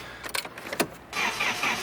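A Nissan 240SX engine running on ethanol fuel cranks over briefly with a few uneven turns, then breaks into a steady, loud, broadband whir, close up with no talking.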